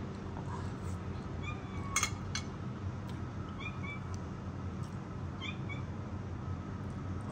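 Cats meow a few times, faint and high, over a steady background hum with an occasional light clink of dishes.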